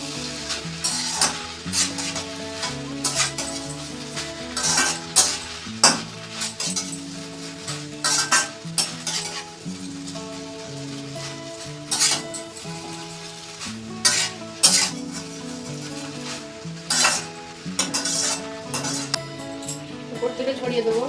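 Egg chowmein with soy and tomato sauce being stirred in a pan: repeated metallic scrapes and clinks of utensil on pan over a soft sizzle, under background music with sustained tones.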